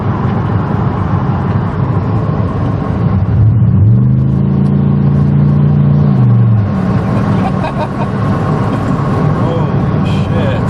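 A 2006 Chevy Impala SS with the LS4 V8 accelerating hard, a loud continuous engine roar with a rising and falling rev sweep in the middle, heard from inside the car.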